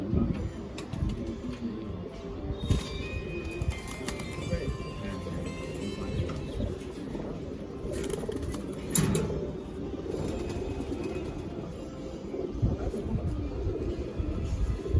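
Pigeons coo at a busy Bangladeshi pigeon market where birds are traded by hand, a soft steady murmur of birds under continuous crowd noise and nearby voices, with a few louder bursts.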